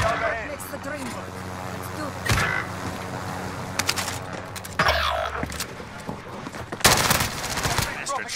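Bursts of rapid automatic gunfire in Call of Duty: Modern Warfare, loud, in close repeated volleys with gaps between them, over game music and effects.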